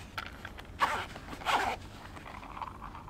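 The zipper on a hard case for Oriveti Lowmaster in-ear monitors is pulled open in two quick, close, scratchy strokes, with faint handling noise around them.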